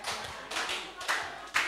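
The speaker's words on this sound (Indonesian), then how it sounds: "Sambil tepuk tangan teman-teman." A church youth service congregation claps along in a loose, uneven rhythm, with bright hand claps arriving in a few separate bursts over a short stretch.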